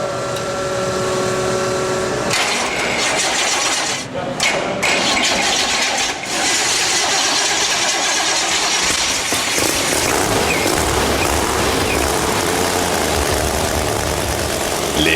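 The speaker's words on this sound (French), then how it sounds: "Les moteurs suralimentés prennent enfin vie." Supercharged Big Block 502 engines fire up and settle into a loud, rough idle, a sustained dense roar running throughout with brief dips early on as they catch.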